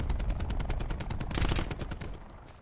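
Rapid bursts of video game gunfire rattle loudly in a tight, rhythmic stream, one heavier volley in the middle, with no talk over it.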